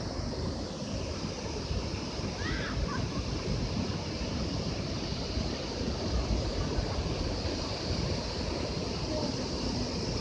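Ocean waves at night, a loud, dense and continuous wash of surf that holds steady for ten seconds with no breaks or voices.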